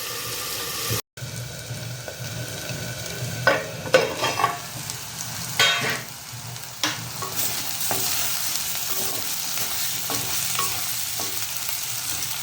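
Cauliflower fries slowly in a pan on a low flame, with a soft continuous sizzle broken by scraping stirs and a few louder clattering bursts, and no voices.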